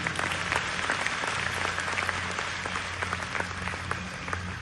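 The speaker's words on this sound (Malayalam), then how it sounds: "നമ്മളെല്ലാവരും ഒരുമിച്ച് നമ്മളുടെ ഫാമിലിന് വേണ്ടി ഒരു വലിയൊരു കയ്യടി കൊടുക്കുക" A large gathering claps together for a family, a steady, full wash of applause that holds evenly throughout without any clear talk over it.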